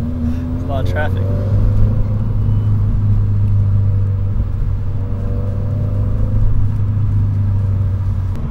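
Subaru WRX with a Stage 2 tune and six-speed manual gearbox driving in traffic, a steady low engine drone and road rumble throughout, with a brief rising rev early on and people talking over it.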